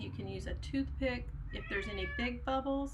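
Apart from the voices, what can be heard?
cat meowing in the background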